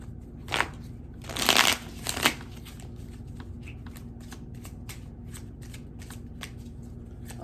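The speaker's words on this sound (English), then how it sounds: "Oh, that's a lot of shuffling, huh?" Tarot cards are shuffled in a few quick riffling bursts, close and fairly soft, followed by light tapping and handling sounds in a quiet room.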